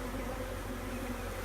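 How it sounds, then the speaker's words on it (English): Honeybees from a relocated swarm hum in a steady, continuous drone around a swarm trap and hive cover, a dense buzzing texture that stays even and fairly close throughout with no talking. "there's a good amount of bees left in the swarm trap and on the cover"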